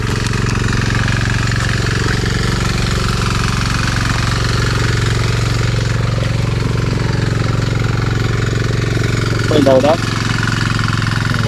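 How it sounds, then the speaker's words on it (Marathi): Tractor engine running steadily in a Konkan paddy field during rice planting, a loud continuous drone throughout with people talking over it. "ट्रॅक्टर झाल्याने या शेतीचं काम जोरदार चालू आहे"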